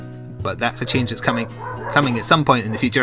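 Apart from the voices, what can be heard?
dog barking at the window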